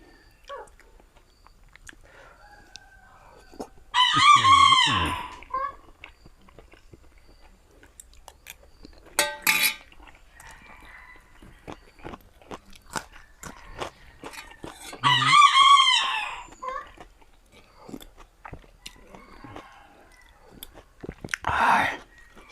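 A rooster crows twice, each a loud, clear cock-a-doodle-doo about ten seconds apart, with scattered clucks, small knocks and other brief farmyard noises in between, plus a shorter squawk near the end.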